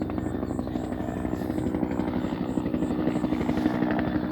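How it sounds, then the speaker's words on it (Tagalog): Two helicopters fly overhead on a farm, a steady loud rotor drone with fast chopping throb filling the whole stretch, no talk over it. "may mga helicopter mga kaagre oh dalawang helicopter yan po"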